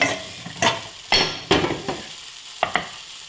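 Chicken kala masala bhaji is mixed with a spoon in a pressure cooker, making several distinct scraping stirs with a wet, sizzling texture, close and fairly loud, with no talking.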